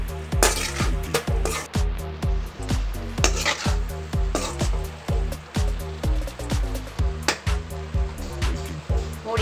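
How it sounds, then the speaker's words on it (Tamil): Drumstick leaf poriyal with ground coconut is turned in a pan, with a quick, regular run of spatula strokes scraping and tapping against the metal over a soft sizzle. "இப்போ இதை நல்லா கிளறி விட்டுட்டு"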